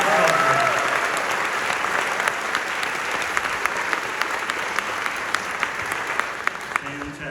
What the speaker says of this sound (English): Another big applause.